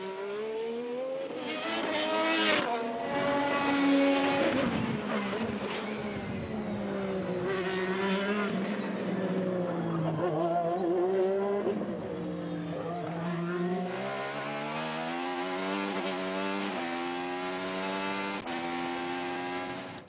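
IndyCar race cars roar through qualifying at the Arlington Grand Prix, engines screaming loudly and continuously as they accelerate and shift, with pitch climbing and dropping as cars pass, and no voices over the noise.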